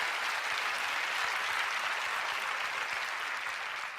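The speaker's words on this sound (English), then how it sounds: "You should applaud yourselves" Studio audience applauding itself, a continuous dense wash of clapping at even loudness, tapering slightly at the end, with no voices over it.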